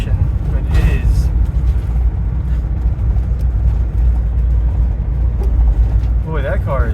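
A car on South Barnett Shoals Road idling and revving nearby, a low steady engine rumble under the whole stretch, with brief voices and a short sharp squeal near the end.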